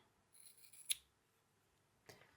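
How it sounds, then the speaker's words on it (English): Scissors snipping yarn tails on a crochet flower, a soft brief cluster of cuts, one sharper snip, then a second quiet cut, close and faint with no talk. "You can tie these yarn tails together, but I'm just going to go ahead and cut them down"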